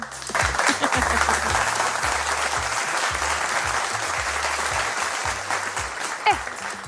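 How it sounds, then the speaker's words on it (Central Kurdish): A studio audience at a television quiz show applauds steadily throughout, a dense sustained clapping with a few rhythmic low thumps underneath. "چەپڵێک بۆ خۆمان"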